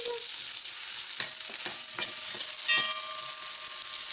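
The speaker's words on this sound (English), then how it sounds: "when your oil is hot, add your sliced onions" Sliced onions sizzle in hot oil for Trinidad-style smoked herring. A broad, even hiss runs throughout, with several light taps and scrapes of a utensil in the pan. No voices.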